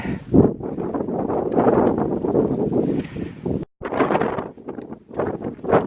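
Strong wind at the trail crest of the Mount Whitney trail, roaring and buffeting the microphone in a loud, steady rush with brief gusting dips.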